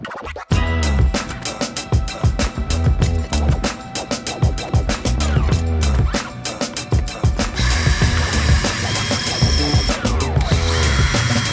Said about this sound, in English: used some stainless steel screws after pre-drilling some holes to attach the lights